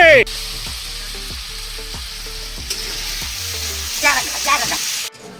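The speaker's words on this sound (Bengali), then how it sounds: "তেল গরম হয়ে গেছে এখন আমরা আলুগুলো সুন্দর করে দিয়ে ভেজে নিই" Potatoes fry in hot oil, a loud, steady crackling sizzle close by with occasional stirring, under a faint rhythmic musical backing.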